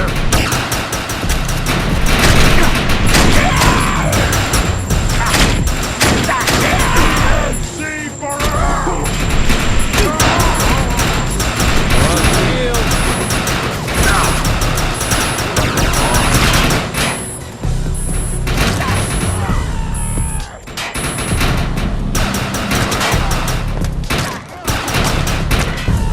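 Heavy gunfire and booming blasts from a video game battle, loud and continuous, with dense shots, thuds and mechanical rumble layered throughout and brief gaps near the end.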